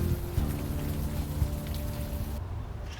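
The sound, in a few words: rain in video game Unavowed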